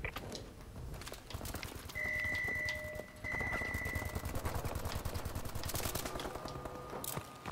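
Rapid bursts of automatic gunfire from a Call of Duty: Advanced Warfare multiplayer match crackle in dense, loud volleys, with a sustained high electronic tone partway through and no talking.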